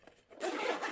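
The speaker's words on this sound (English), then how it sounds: "Let's see if it zips up." A zipper closes on a carrying case holding a gamepad: one quick, close, rasping pull lasting about half a second after a brief pause.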